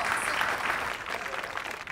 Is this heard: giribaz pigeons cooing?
no